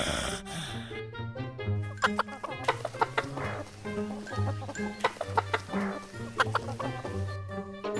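Chickens clucking repeatedly and close by in a cartoon farmyard, rhythmic cackling notes over a steady din of fowl.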